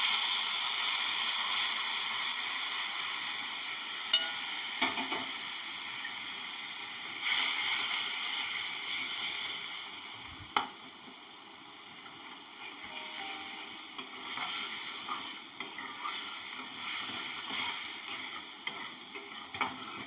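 Spice masala sizzles and is stirred in oil in a wok for a taro and potato curry, a steady frying hiss with scattered scraping clicks of the spoon throughout, no talk.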